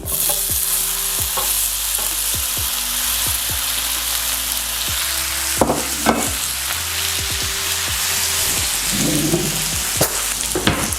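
Gnocchi frying in browned butter in a pan, a loud continuous sizzle with occasional utensil clicks and scrapes as the pieces are moved, close up and without talk.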